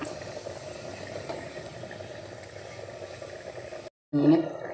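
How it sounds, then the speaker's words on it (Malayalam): Papadum frying in hot oil for a home lunch, heard as a steady, dense sizzling hiss that carries on for about four seconds, then cuts out briefly before a louder burst at the end. "പപ്പടം പൊരിക്കുകയാണ് കേട്ടോ."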